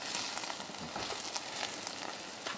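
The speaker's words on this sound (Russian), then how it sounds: "Вот она все с лучком прекрасно обжарилась." Carrots and onion fry in a pan over a campfire, giving a soft, continuous sizzling hiss with faint crackles and no voices.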